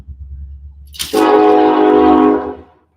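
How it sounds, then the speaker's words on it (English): A loud train horn blares for about a second and a half, rising abruptly over a low rumble of passing rail cars, then cuts off as the rumble carries on underneath. "Apologize for the train."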